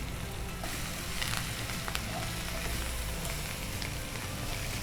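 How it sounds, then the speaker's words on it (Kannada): Paneer bhurji masala with coriander leaves frying in a pan, a constant even sizzle with occasional small crackles and scrapes throughout. "ಸ್ವಲ್ಪ ಮತ್ತೆ ಫ್ರೈ ಮಾಡುವಾಗಲೇ ಈಗ ಕೊತ್ತಂಬರಿ ಸೊಪ್ಪು ಸ್ವಲ್ಪ ಹಾಕ್ತೇವೆ"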